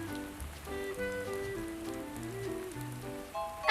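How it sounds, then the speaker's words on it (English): Rain falls steadily in a children's cartoon, a soft patter heard under gentle background music, with no one speaking. "Max, it's raining."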